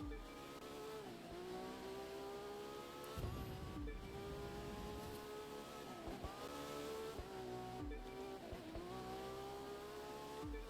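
Racing car engine in The Crew 2 video game, driven fast, revving in a continuous whine that repeatedly climbs and drops with each gear change, fairly quiet and steady throughout.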